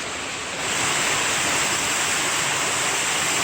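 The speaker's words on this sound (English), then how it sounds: "This is the waterfall on Anthony Bolick Branch." Steady roar of a waterfall on Anthony Bolick Branch in the Johns River headwaters, Pisgah National Forest, North Carolina, a dense broadband rush of falling water that swells louder after the first half second and holds constant, no voices.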